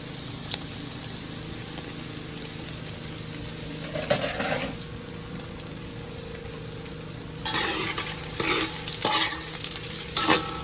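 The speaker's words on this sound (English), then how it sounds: "Yes, I got paneer there. I want that to be like golden brown, right? Saute it up nice." Paneer sautéing in a pan toward golden brown, with a continuous sizzle and intermittent scraping stirs, while running tap water splashes in bursts nearby; no one speaks.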